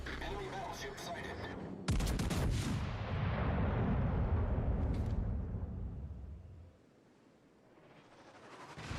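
Naval gunfire from a battleship in World of Warships: a loud booming salvo that rolls into a long rumbling roar, then fades away.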